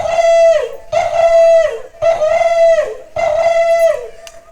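A man imitates a dove's call, giving four rhythmic cooing notes, close and loud, with short pauses between them.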